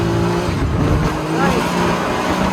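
A Can-Am off-road vehicle makes a speed test run, its engine revving loudly up close with shifting pitch and some tyre noise, while a voice speaks briefly over it.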